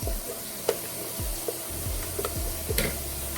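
Sea moss gel is stirred inside a tall glass mason jar, with repeated wet, sloshing strokes and a few light clinks of the utensil against the glass, close up and steady, with no talking.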